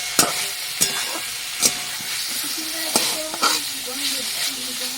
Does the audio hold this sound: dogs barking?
no